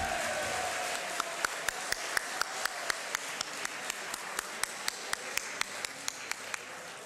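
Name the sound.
audience applause at a poetry mushaira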